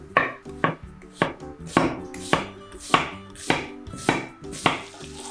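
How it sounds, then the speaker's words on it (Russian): A knife chops an onion on a cutting board, about ten sharp, evenly spaced thuds sounding close and alone with no talking. "Тем временем нарежем одну репчатую луковицу."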